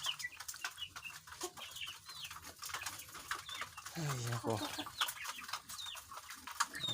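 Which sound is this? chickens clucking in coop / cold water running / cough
chickens clucking in coop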